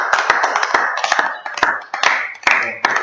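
A church congregation clapping to acclaim the Lord, close irregular hand claps and taps with uneven rhythm, mixed with voices over about three seconds.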